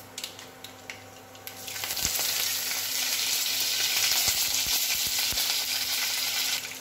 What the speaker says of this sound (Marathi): इथे तेल तापत ठेवलंय, याच्यामध्ये आपण हिंग राई टाकूया।